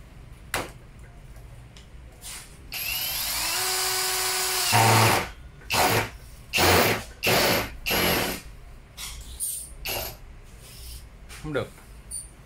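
A DCA 120N.m cordless drill in drill mode whines steadily at high speed for about two seconds, then gives a series of short, sharp bursts with pauses between them, while people talk nearby.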